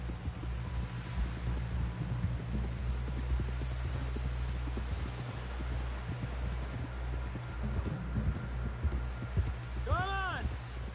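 Horse hooves clip-clop at a steady walking pace in Red Dead Redemption 2, a close, even rhythm over a low hum and game ambience, with a brief voice near the end.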